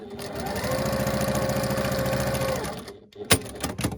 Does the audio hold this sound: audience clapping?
no